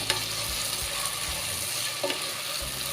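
Mixed vegetables (corn, carrot, capsicum, peas, onion, potato) sautéing in oil for veg pulao, a dense close sizzle with rhythmic scraping and clattering stirs throughout.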